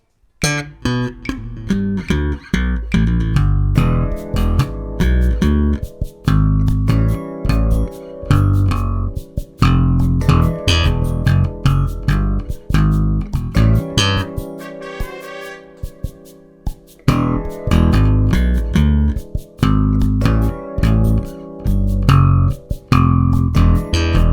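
Bass guitar plays a punchy 80s synth-style bass line over a slower backing track, with steady plucked notes throughout and no talking.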